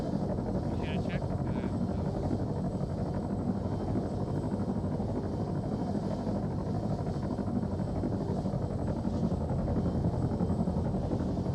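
Helicopter rotor and engine drone in a military combat video game, a steady loud wash of noise running throughout with faint brief game sounds on top.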